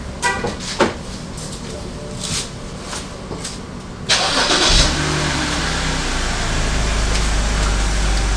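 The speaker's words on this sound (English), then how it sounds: "Turn on the car." A car engine cranks and starts partway through, then settles into a steady, loud idle, with scattered talk and small handling noises before the start.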